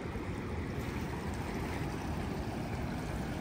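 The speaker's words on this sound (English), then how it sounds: "Now I see why you talk about sneaker waves." Ocean surf at the shore where sneaker waves surge up the beach, heard as a steady, dense roar of breaking water with no distinct individual crashes, constant and fairly near throughout.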